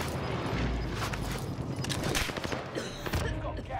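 Rapid in-game gunfire during a Call of Duty Warzone firefight on Rebirth Island, dense, overlapping shots and booms packed together across the whole stretch, loud and close with a busy battle texture throughout.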